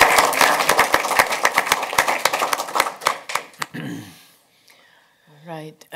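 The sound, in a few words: board meeting audience giving a round of applause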